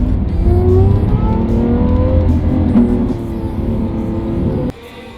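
Loud engine of a Ferrari 458 GT3 spider rising and falling in pitch as it revs in Philippine traffic, then cutting off abruptly near the end.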